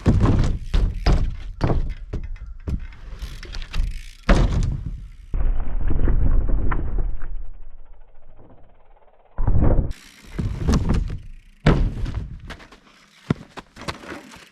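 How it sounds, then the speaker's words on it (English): A BMX bike's front tire bonks into a ramp during a nose-bonk 180 attempt, giving a series of heavy, hollow thunks and clattering knocks, close and loud, with quieter rolling and rattling between impacts and no talking. "come up off of this ramp, bonk my front tire into there, do a 180, land backwards"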